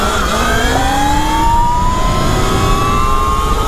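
Sur Ron electric dirt bikes accelerating hard in a drag race, the most powerful producing 10 kilowatts; loud, continuous electric motor whine rising steadily in pitch, with rushing wind noise.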